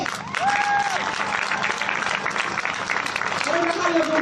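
Protest crowd at a live BLM demonstration clapping steadily throughout, a dense wash of applause with voices and talk over it.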